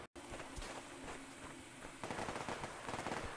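Gunfire in Survarium, a post-apocalyptic online shooter: rapid automatic bursts and single cracks, fairly loud and close, heavier in the second half, with no speech.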